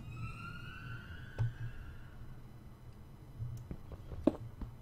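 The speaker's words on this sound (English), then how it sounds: "Wonder what that siren sound was." A faint siren in the Minecraft video game, a thin wailing tone that rises and fades in the distance over a few seconds, quiet, followed by soft scattered game clicks and thumps.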